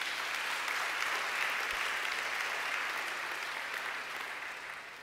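A church congregation applauds in a dense, continuous wash of clapping that slowly fades toward the end.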